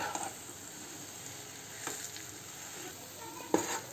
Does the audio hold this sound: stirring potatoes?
yes